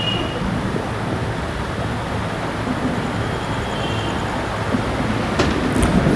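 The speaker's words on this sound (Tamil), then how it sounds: "மகாராஷ்டிராவில் தான் ட்ரெயின் போயிட்டுருக்கு." Navajivan SF express train, No. 12656 from Chennai to Ahmedabad, running through Maharashtra: a steady, loud rumble of wheels and carriages that continues throughout with no talking, ending in a few faint clicks and rattles.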